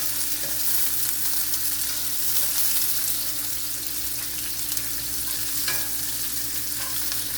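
Onions fry and are stirred in a hot cast iron skillet over reduced heat, giving a steady, moderate sizzle with occasional scraping, no voices present.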